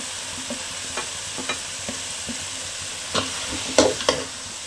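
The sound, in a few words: stirring curry masala and chilli powder into the pan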